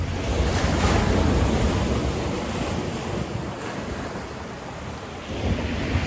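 Rough, stormy sea waves crash continuously and loudly under gusting wind buffeting the microphone, a dense, unbroken roar of surf with no voices.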